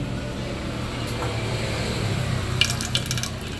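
Water runs steadily from a tap into a kitchen sink, a continuous close rushing stream with a few light clinks near the end.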